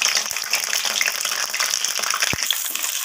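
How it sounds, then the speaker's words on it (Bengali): Cut potatoes dropped into hot oil for a chicken curry with papaya and carrot, a loud close hissing sizzle that fills the pan, with a sharp clink of a utensil near the end and no talk. "তো তেলটা গরম হয়ে যাওয়ার পর কেটে রাখা আলুগুলোকে এখানে দিয়ে দিলাম। আলুগুলোকে আমি লাল লাল করে ভেজে নেব।"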